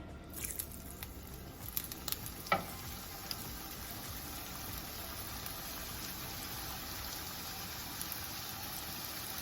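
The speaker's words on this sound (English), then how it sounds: "And there they go dancing around in that avocado oil." A batch of tortillas frying in avocado oil, a faint continuous crackling sizzle with a few sharper pops and clicks early on, then a steady low bubbling.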